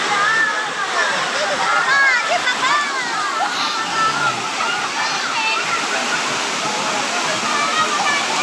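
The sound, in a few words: waterfall at Gabur Gabur Falls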